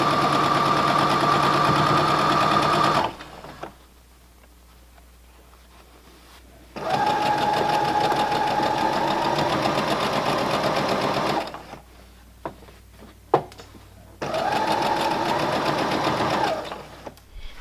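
A sewing machine stitches quilt rows together for a beginner's quilt top, running loud and steady in three long bursts with short pauses between them, where faint handling of the fabric can be heard.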